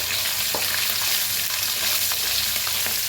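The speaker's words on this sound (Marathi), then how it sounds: "त्याच्यात टाकायचं आता कांदा आणि हिरव्या मिरच्या, भाजून घेऊया।" Chopped onion and green chillies fry in hot oil for spiced tempered rice, giving a steady close sizzle with occasional stirring scrapes.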